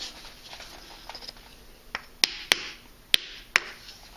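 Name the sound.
tapping rush with wooden wedge and hammer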